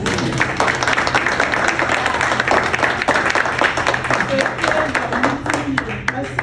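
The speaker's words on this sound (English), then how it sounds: "So please, let's give her a round of applause." Audience at a European education conference applauds a young university lecturer, a steady dense round of clapping with individual sharp claps standing out, sustained at even loudness throughout.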